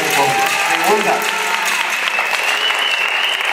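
A crowd at an outdoor campaign rally for a local deputy candidate in Puxtla, Mexico, breaks into loud, sustained applause, a dense continuous roar of clapping with faint tonal sounds and voices mixed underneath.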